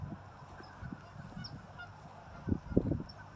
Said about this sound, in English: These are ducks.